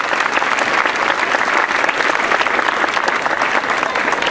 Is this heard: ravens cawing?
no